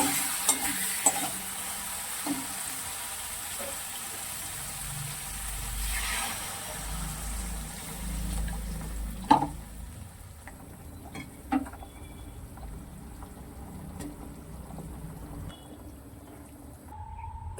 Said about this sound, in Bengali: সেই মাছেরই এখন এই যে বসিয়েছি একটু কালিয়া মতো আলু দিয়ে